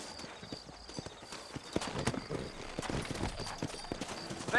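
Horse hooves clip-clop at a steady walking pace in the Western video game Red Dead Redemption, set in New Austin, with soft ambient outdoor background and a faint snort.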